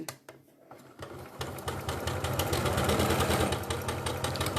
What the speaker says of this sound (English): You don't need to sew right to the edge of the sleeve.